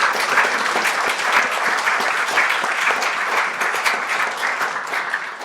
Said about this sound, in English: please, a big round of applause for Jamie Ross